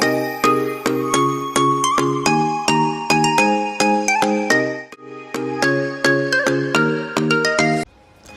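A phone ringtone plays a bright, chiming melody of repeated bell-like notes in a steady rhythm for several seconds, loud and close, cutting off abruptly near the end.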